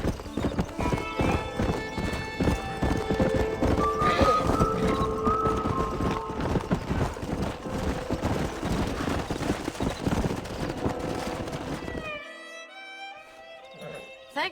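Horse hooves clip-clop steadily in Red Dead Redemption 2, a stallion's trot close and continuous with occasional whinnies, before cutting to a brief quieter passage near the end.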